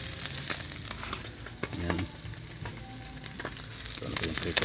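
Fish paksiw frying in a pan, a steady crackling sizzle with occasional stirring and scraping throughout, with a brief spoken word.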